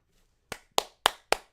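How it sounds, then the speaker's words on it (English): Four sharp hand claps picked up close on a microphone, evenly spaced about a quarter second apart after a short silence. "my clapping came up on my mic"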